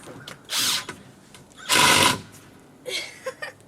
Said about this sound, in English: That means it's slipping. And you ruin the bit and the drill.